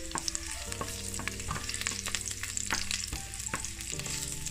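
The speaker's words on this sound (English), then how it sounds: "I'm gonna add my ginger and my garlic. I want them to burn in the oil a little bit." Ginger and garlic fry in hot coconut oil for a Jamaican curry chicken, a steady close sizzle broken by frequent clinks and scrapes of stirring in the pot.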